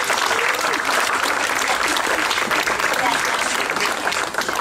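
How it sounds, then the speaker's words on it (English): An audience at the 36th Annual Miss & Mr. Wood Chip Contest in Rangeley, Maine applauds the participating kids, steady dense clapping filling the room at full strength throughout with cheering voices mixed in. "So give them all a big applause."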